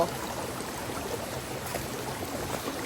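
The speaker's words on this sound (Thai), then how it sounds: "ได้ยินเสียงน้ำไหลจะชื่นใจมากเลย" Continuous gentle rush of flowing water, like a stream running nearby, soft and even with no other sounds.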